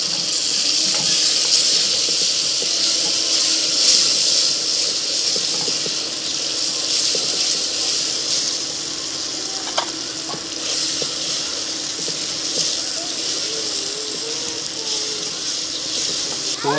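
Keema sizzling and frying in a pan as tomatoes go in, village-style cooking of minced meat with potato and capsicum; a steady hiss of frying with occasional stirring scrapes runs throughout, with no voices.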